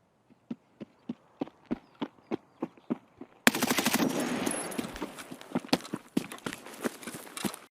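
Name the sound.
gunshots in the video game Escape From Tarkov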